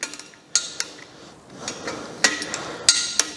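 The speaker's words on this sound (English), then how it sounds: "To remove the oil squirters, we need the 14 socket again" Socket wrench clicks and sharp metal knocks while oil squirters are unscrewed from a Mazda MX5 VVTurbo engine block, a few irregular, close taps separated by short quiet gaps.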